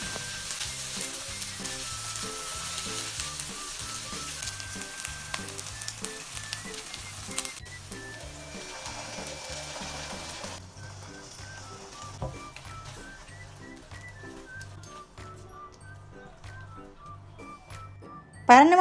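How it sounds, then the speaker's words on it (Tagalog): Chicken breast sautéing in a pan for carbonara gives a continuous close sizzle with occasional stirring scrapes and light clinks over a faint musical backing, with no clear talking. "igigisa ko na rin po dito yung mga breast chicken"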